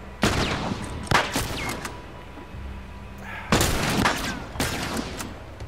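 Single gunshots from The Last of Us Remastered on PS4, fired one at a time: a few sharp cracks spaced a second or more apart, loud and close, with game ambience and a low hum between them.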